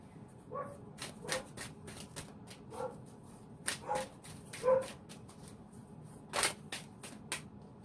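A dog gives a series of short, soft yips and whimpers at irregular intervals, fairly close, with some rustling between them.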